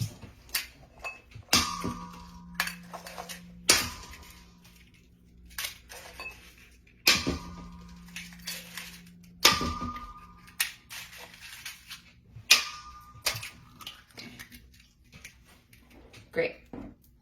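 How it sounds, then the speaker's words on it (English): Six eggs cracked one after another into a mixing bowl while making a French toast casserole, giving sharp, separate clicks and taps spread over several seconds with pauses between them, close by, and a voice talking at times between the cracks. "Now in a mixing bowl, what you're gonna do is add 6 eggs"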